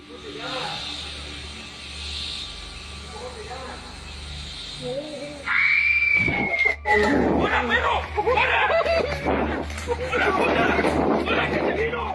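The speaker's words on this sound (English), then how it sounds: "The girl lets out an awful scream." A girl's high, rising scream cuts in partway through, followed by a loud jumble of shouting, laughing and chattering voices from a group in a jungle, over a steady background hum.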